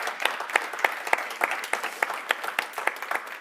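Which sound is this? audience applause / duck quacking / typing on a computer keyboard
audience applause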